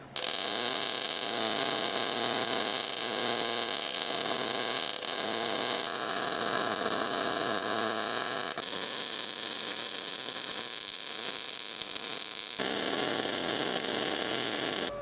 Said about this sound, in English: let's use it on these IRS arms and start welding up this 1/4" plate